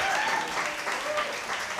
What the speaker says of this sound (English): round of applause for AMIRA.